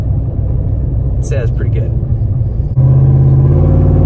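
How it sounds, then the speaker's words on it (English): A 5.3-litre GMC Sierra truck with a stage 2 cam, an X-pipe and long-tube headers rumbles through its exhaust under a voice, then settles into a louder, steady, throbbing idle for the last second or so. "That should get an idea of what this truck really sounds like on the pipe."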